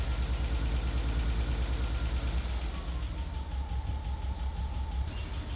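A BMW E30 engine idles at close range, a steady low rumble with a continuous even drone throughout and no talk over it.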